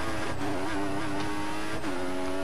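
An F1 race car in the video game F1 2014, driven at the limit, screams at high revs with a loud, steady engine whine, dipping briefly on a couple of gear shifts and rising again.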